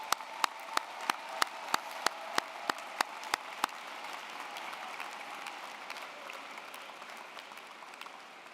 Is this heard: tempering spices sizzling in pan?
no